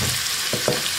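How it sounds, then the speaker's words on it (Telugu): A short burst of onions frying in oil with mustard seeds and cumin: a close, even sizzle with two quick stirring knocks, no speech. "ఆవాలు జీలకర్ర వేగాక సన్నగా తరిగి పెట్టుకున్న ఉల్లిపాయలు వేసుకుందాం"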